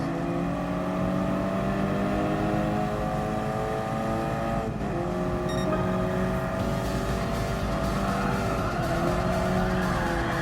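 A KTM X-BOW R race car in Gran Turismo Sport howls steadily at high revs, its engine note dipping and climbing as it slides through a corner, with a faint tyre scrub underneath.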